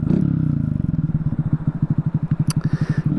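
A 2022 Honda Grom motorcycle engine with modified exhaust and air intake idles up close, a loud, deep, rhythmic thumping pulse that stays steady throughout.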